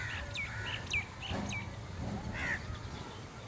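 Birds chirp around a village rooftop after rain, several short, bright tweets scattered over a steady background hum.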